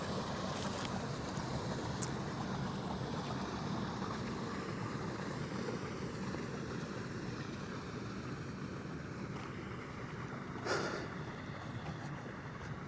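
Water rushes steadily at a lake near Tel Artal, a faint, continuous broadband flow noise mixed with wind, with no voices.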